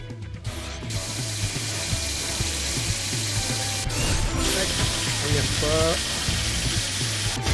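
A drill in a Paw Patrol video game grinds through rubble in a loud, continuous ratcheting mechanical whir, with a voice speaking briefly over it.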